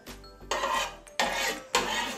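A spatula spreading oil across an old, long-used non-stick pan: three scraping strokes, each starting sharply and fading, close and fairly loud.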